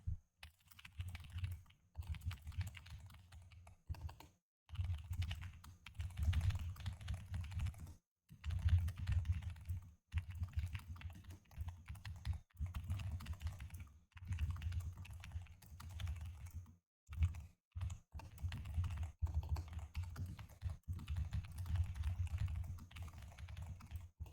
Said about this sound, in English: I just typed up some stuff there.